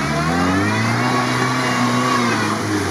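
A Lada Niva's engine drives off-road in a video game, running loud and steady with a continuous mid-pitched drone that rises slightly in revs throughout.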